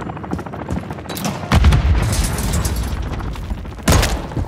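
Call of Duty team deathmatch gunfire: loud bursts of shots and booming impacts, with a heavy burst around the middle and another near the end, amid dense game noise.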